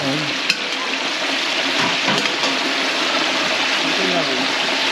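Food bubbles and crackles in hot oil in a deep fryer, a dense, loud, continuous sizzle with a faint voice speaking in the background.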